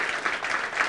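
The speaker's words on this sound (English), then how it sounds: "Please, let's give them a great rousing round of applause." A seated audience at a community partnership event claps for the foundation's co-founders, giving a brief, moderately loud burst of steady applause.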